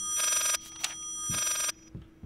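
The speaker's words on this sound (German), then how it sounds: "Mach dieses verdammte Telefon aus." A telephone bell rings in the horror game Layers of Fear, two loud bursts of insistent ringing separated by a short pause, with fainter echoing tones trailing after.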